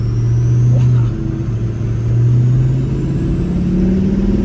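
A Ford 6.0L Power Stroke diesel fitted with a loud performance turbo accelerates, a steady deep engine drone with rising pitch and a faint high turbo whistle above it, loud and close throughout.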